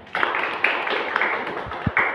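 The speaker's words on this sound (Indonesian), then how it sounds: "Tepuk tangan untuk kita semuanya." A small class applauds together at the end of a lesson session: a steady patter of clapping hands, moderately close and fairly light, running throughout with a few louder claps standing out.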